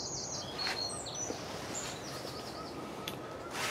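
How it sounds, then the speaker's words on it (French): Birds sing in a garden vegetable plot, bright chirps and whistled phrases coming and going at moderate distance over a steady outdoor hiss. "On entend les oiseaux chanter."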